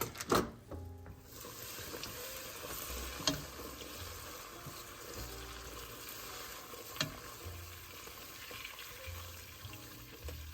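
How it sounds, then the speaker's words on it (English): About two thirds of a cup of butter melting and browning in a pan, a soft, low, steady sizzle with a couple of faint clinks; no voices. "we're going to wait for our butter to get browned"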